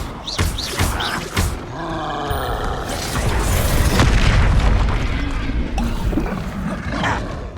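Bombarda explosion spells in the Hogwarts Legacy video game go off as a string of booming blasts with roaring rumble, loud and dense, several sharp impacts over about seven seconds.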